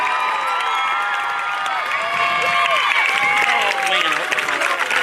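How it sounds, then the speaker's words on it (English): A crowd at a high school football game applauds and cheers fall senior athletes, loud sustained clapping mixed with shouts and whistles, with a voice over the loudspeaker running beneath it. "Panther fans, let's give a round of applause to our fall senior athletes."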